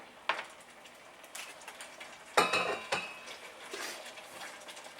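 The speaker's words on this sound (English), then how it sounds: "You can hear it sizzling." Chop suey ingredients are stirred in a hot pan, with metal utensils clanking and scraping against the pan in sharp bursts over a faint, steady sizzle.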